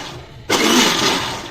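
A kitchen mixer grinder run in reverse to churn cream into homemade butter kicks on after a short quiet moment, then whirs loudly and steadily up close with a rough, grinding churn.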